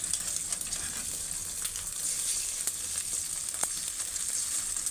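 An egg frying in a pan at home, a steady close sizzle running throughout with faint scattered crackles and no talking.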